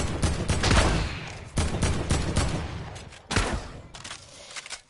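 Gunfire in Fortnite Season 9: rapid, loud volleys of shots come in several clustered bursts, each decaying before the next string of fire starts.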